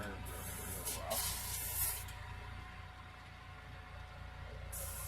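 An airbrush sprays a steady hiss while being flushed clean, with brief louder bursts at the start and a constant airy rush throughout, close and alone.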